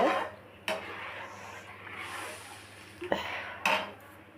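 A spoon scrapes and stirs fish curry around a metal cooking pot, with a few sharp clanks against the sides amid steady kitchen noise.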